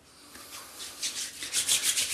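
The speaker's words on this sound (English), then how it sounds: "Rub it into warm hands." Nivea cream is rubbed between warm hands, a soft close swishing friction that grows louder and more rhythmic over a couple of seconds.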